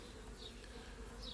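Honey bees in a backyard mini nuc hive give off a soft, steady, close buzzing drone, faint and unbroken, with no voices.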